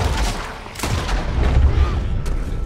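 Gunfire in Red Dead Redemption 2 cracks out as a couple of sharp, somewhat distant shots over a busy, rumbling game soundscape.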